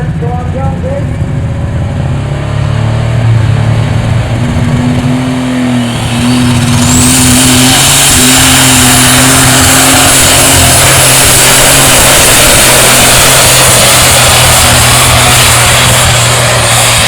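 A tractor in a pulling competition drags a sled down the track, its engine roaring loud and steady at high revs, with a harsh rising whine building partway through and crowd or announcer noise mixed underneath.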